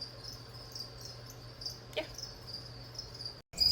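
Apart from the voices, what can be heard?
crickets chirping in breeding incubators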